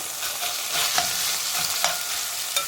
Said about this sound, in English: what I'm going to do is sear off all of the beef cubes